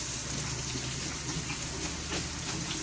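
Tap water runs steadily in a home kitchen while hands are washed during cooking. A continuous, fairly loud gush of water fills the whole stretch without pause.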